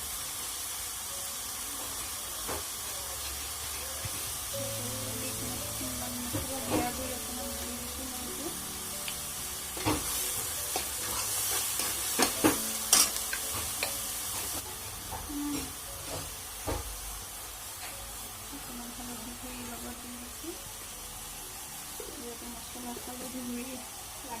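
Onions frying in a pan for a meat dish, a steady hiss with occasional clinks and faint background voices and sounds, moderately loud throughout.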